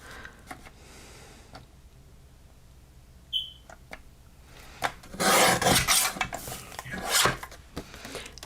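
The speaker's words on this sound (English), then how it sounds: "First, I'm going to trim off this silver piece." A silver craft piece being trimmed, a few faint clicks early on followed by loud bursts of rasping, scraping strokes close to the microphone, with no speech.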